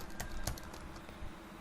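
Keys clack on a computer keyboard as data is entered into a spreadsheet cell, a few quick separated taps at a moderate distance with no voice over them.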